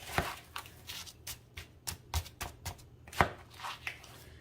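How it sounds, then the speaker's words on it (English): Broccoli and partly frozen hash browns are gently mixed for a casserole, producing quiet, soft, uneven clicks and taps as chunks knock together, with short pauses between strokes, close by and without voices. "I'm gonna kind of gently mix this together here a little bit."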